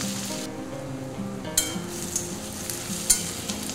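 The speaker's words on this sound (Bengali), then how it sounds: "পেঁয়াজটা খুব লাল করে ভাজবো না, একটু নরম হয়ে গেলে হয়ে যাবে" Large chopped onions frying gently in oil for a light chicken and potato curry, a soft continuous sizzle with a couple of sharp spoon clinks against the pan, no voices.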